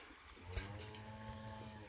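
Cattle in a herd lowing as a new house cow joins them, a steady low droning moo with harmonic layers running throughout, with a brief sharper knock near the middle.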